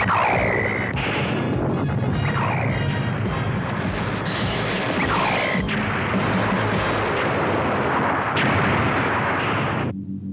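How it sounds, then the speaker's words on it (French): Heavy artillery-style blasts and rumbling explosions for a nuclear shell fired from a submarine, a film sound effect: a dense, loud barrage of booming bursts and crashes running continuously for about ten seconds before cutting off. "paré pour lancement obus nucléaire."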